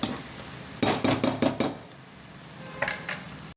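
Boiled goat tripe (boti) tips into a hot spiced pan in a home kitchen, giving a burst of several close, rapid sizzling, scraping clatters, then quieter stirring with one more brief pair of hits near the end.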